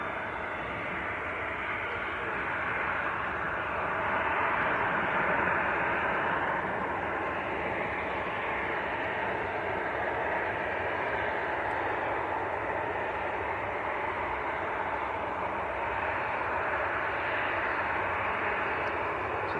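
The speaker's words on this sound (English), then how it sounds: "This is Ryanair to Toulouse, 737-800." A Ryanair Boeing 737-800 bound for Toulouse roars at Manchester Airport, a sustained distant jet rumble and hiss that builds gently around the middle and then carries on evenly, with no voices over it.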